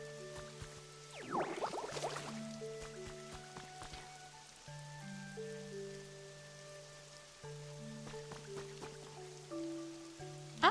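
Steady soft rain falls in a video game, a gentle patter under quiet tonal game music with a brief burst of louder splashing early on.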